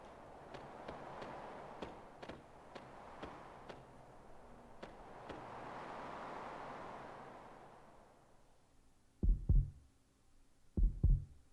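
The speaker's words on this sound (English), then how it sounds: "Heartbeat." Heartbeat sound effect in the video game Chrono Cross: two distinct double thumps, lub-dub pairs, land close and clear near the end, after a stretch of soft in-game ambience and faint ticking.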